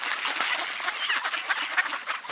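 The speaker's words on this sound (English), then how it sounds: "some more ducks walking on the ice." Ducks walking across a frozen pond give steady, fairly close quacking and honking calls, overlapping in a busy chatter with no talk.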